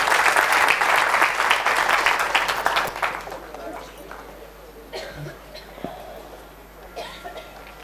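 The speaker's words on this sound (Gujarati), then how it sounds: "વગાડો તાળી આ ભાઈ માટે" An audience breaks into loud, dense applause for a salesman, the clapping strong for a few seconds and then fading away, leaving scattered coughs and room noise.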